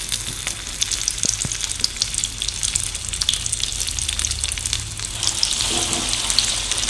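KFC-style chicken drumsticks frying in hot oil over a medium flame, giving a dense, continuous crackle and bubbling sizzle that stays close and fairly loud throughout.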